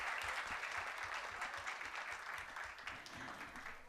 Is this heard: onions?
no